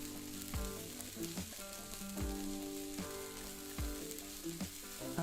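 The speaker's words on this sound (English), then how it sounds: "we're going to cook this until the onions become translucent" Onions fry in a pan, sizzling continuously and fairly quietly, with regular stirring scrapes and clinks recurring throughout.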